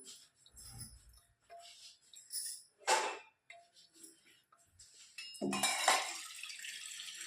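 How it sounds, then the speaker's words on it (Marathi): Water poured into a pot while making paneer from milk curdled with lemon, heard as a few short splashing bursts with clinks of a vessel, the last pour longer and louder, in a quiet kitchen. "याच्यामध्ये थोडं पाणी टाकून घेऊया"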